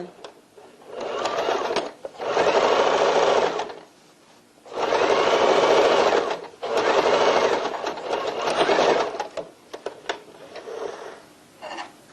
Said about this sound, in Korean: 바닥 박음질 하겠습니다.